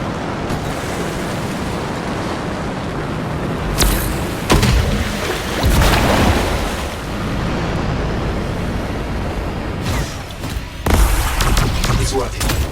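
Waterfalls running in reverse in the video game Anthem make a steady, dense rushing roar that fills the clip, with several heavier whooshing surges and booming swells rising over it.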